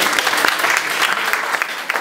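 A crowd claps steadily at a school debate final, a dense patter of hands sustained throughout without pause.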